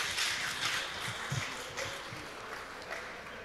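Audience at a national dialogue event in Ngagel, Surabaya applauding a police commissioner, a faint, steady wash of distant clapping filling the hall.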